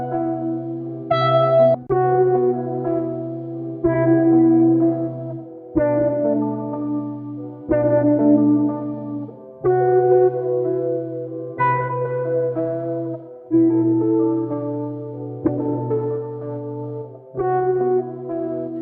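A distorted, effected synth-like melodic line with chorus and echo, a lo-fi sample pitched down an octave, repeating phrases in a steady rhythm, sounding deep and thick with no talking.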